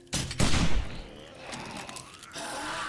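Rifle gunfire in the zombie survival game 7 Days to Die, a quick close burst of shots at the start followed by lower combat noise and a groan, with a man exclaiming.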